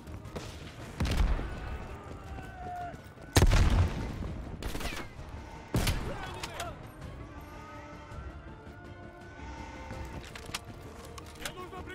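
Gunfire in a video game, several sharp loud shots and bursts spread across the scene with a busy background rumble, while people talk over the action.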